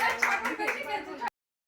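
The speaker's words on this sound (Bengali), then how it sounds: "তো তার জন্য একটা জোরে হাততালি হয়ে যাক।" Audience claps for the winner of a fuchka-eating challenge, a short burst of applause mixed with voices that stops abruptly.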